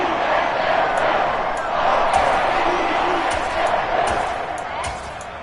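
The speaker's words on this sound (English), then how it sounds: "Plenty of shouts from this crowd as they watch the replay." A football stadium crowd roars and shouts continuously during a replay in a football game, a dense, loud wash of voices with a few sharper thuds, and a commentator speaking over it.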